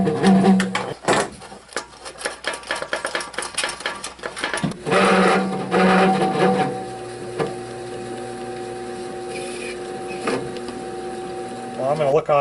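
Rock tumbler with a worn bearing rattling as the barrel is pulled, giving irregular clattering knocks and a mechanical whir, with someone talking through parts of it and a steadier hum later.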